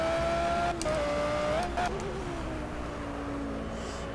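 Audi R8 GT3 race car engine in the Project Cars racing game on Xbox One, a steady loud engine tone dropping through gears with brief pitch shifts as it downshifts, continuous throughout.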